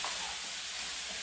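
Pork ribs are stirred in a frying pan for a corn soup, a dense continuous sizzle with scraping movement, close and steady throughout.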